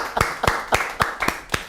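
A group claps in a slow, steady rhythm for a teenage girl at a church youth session, six or seven loud, evenly spaced claps.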